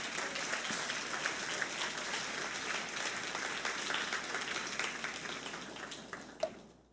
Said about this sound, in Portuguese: E a Catedral Emanuel vai aplaudir pela sua decisão.